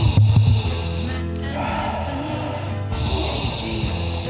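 Loud, close breathy sniffing and snorting, a rush of air drawn in through the nose in a few long pulls.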